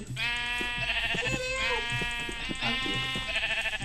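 Minecraft sheep bleat repeatedly in wavering, nasal cries, several calls overlapping in close succession over a low background hum.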